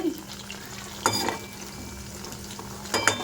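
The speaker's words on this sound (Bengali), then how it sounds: "এখানে চিকেন পকোড়া ভাজা হচ্ছে" Chicken pakoras fry in oil with a steady sizzle, broken by two brief bursts of stirring and utensil clatter against the pan.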